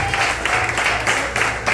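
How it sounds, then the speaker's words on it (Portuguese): A church congregation claps in worship, a steady dense patter of many hands with slight rhythmic swells, fairly close and continuous throughout. "A igreja adora o Senhor com as palmas"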